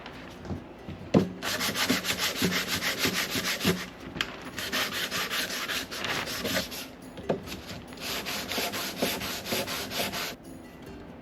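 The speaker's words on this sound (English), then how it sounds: "So I'm going to start hand sanding on this area" Rhythmic, scratchy strokes of hand sanding rasp back and forth close by on the body of a 1987 Jeep Wrangler in steady bursts, with brief pauses and a few knocks between passes.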